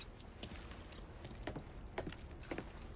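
Car keys jangling in the video game Mafia III, several light metallic clinks and rattles spread across a few seconds over a quiet background, with no one talking.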